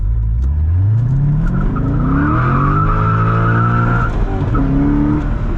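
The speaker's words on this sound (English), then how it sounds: "we'll mat it and go in competitive mode here and see how the car acts." A C6 Corvette in competitive mode accelerates hard at full throttle, its engine climbing steadily in pitch while the tires slip and squeal, loud and close throughout.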